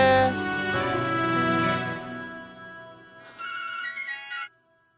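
A phone ringtone plays, a bright melodic electronic tune that fades, then a short higher chiming phrase before cutting off.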